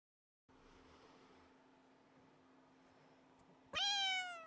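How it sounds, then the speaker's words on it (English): A quiet, steady hum runs under near silence, then a single clear, loud cat meow rises near the end, with the noise gate switched off. "her meows were so quiet that they weren't sounding"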